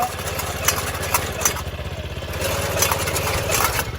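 An onion transplanter's small engine running at high throttle, a fast, steady, pulsing mechanical chug up close with some rattling clatter over it and no speech.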